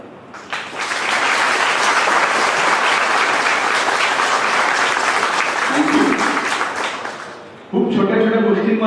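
Loud, sustained audience applause at a district-level Manthan exam prize distribution ceremony in Jalgaon, dense clapping filling about seven seconds before fading, with a voice speaking briefly near the end.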